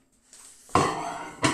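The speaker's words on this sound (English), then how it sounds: "you open the microwave" A kitchen microwave door is opened with a sharp clunk and clatter, followed by a second quick knock, loud and close.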